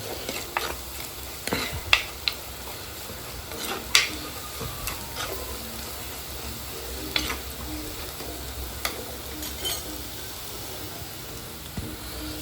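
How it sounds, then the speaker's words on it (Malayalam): Tomatoes sauté in a pan with a faint continuous sizzle, punctuated by scattered spatula scrapes and taps against the pan, all fairly quiet with no talking. "അതുപോലെ തക്കാളിയും ഇട്ട് നല്ലോണം ഒന്ന് വഴറ്റിയെടുക്കുക കേട്ടോ."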